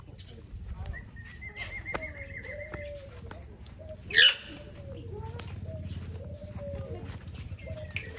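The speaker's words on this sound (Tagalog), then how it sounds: "There's a big parrot, guys." A large parrot calls in a few short, harsh squawks with one louder burst near the middle. Other birds cry over a low rumble of background noise.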